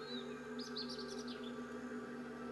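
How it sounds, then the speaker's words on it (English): A small bird in a jungle level of the VR game Lego Bricktales VR gives a brief burst of quick high chirps over a steady, faint electronic hum, with no one talking. "there's a bird up there that needs rescuing"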